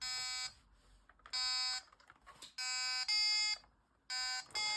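A 1980 Pocket Simon handheld game plays raw, retro electronic tones, loud sustained beeps in separate bursts with short quiet gaps between them.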